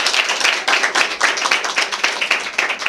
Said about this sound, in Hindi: खुदा के अजीम खादम पास्टर रिजवान साहब का शुक्र अदा करना चाहेंगे भरपूर तालियों के साथ